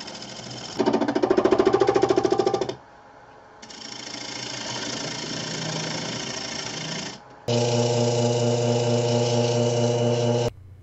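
Loud machine drone in three sustained bursts with brief pauses between, a steady mechanical whir with tonal hum, as a wood lathe spins up to about 800 rpm turning a yarn bowl.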